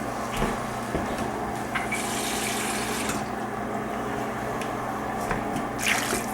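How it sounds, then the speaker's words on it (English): Steady stream of water poured into a cooking pot, a continuous rushing, bubbling flow without pause. "We're gonna add 2 cups of water."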